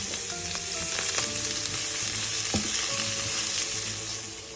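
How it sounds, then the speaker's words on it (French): Shallots fry in oil in a pan with a steady, dense sizzle throughout, joined by a few light clinks and scrapes of the pan. "Et je fais revenir les échalotes dans la poêle."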